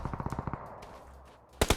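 Gunfire in the PUBG Mobile battle royale game: a rapid burst of automatic shots, then a quieter stretch and another loud close burst at the end.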